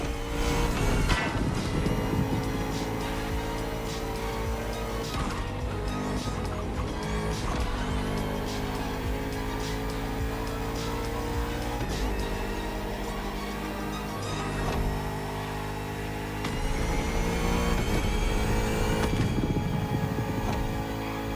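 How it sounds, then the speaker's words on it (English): The Bugatti Vision GT in the Motorfest video game revs hard and continuously, its loud engine rising and falling in pitch through repeated accelerations and gear changes over a steady driving roar. "The Bugatti Vision GT."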